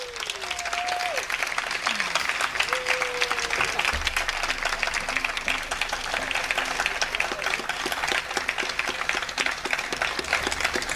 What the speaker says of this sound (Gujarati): સૌપ્રથમ આપણે તાળીઓના ગડગડાટથી વધાવી લઈશું